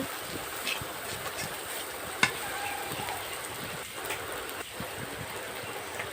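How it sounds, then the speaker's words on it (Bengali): Onions fry in oil on a clay stove, a continuous rain-like hiss and crackle heard close up, with one sharp tick standing out. "আমি তেলে ভালো করে পেঁয়াজগুলো ভেজে নিলাম"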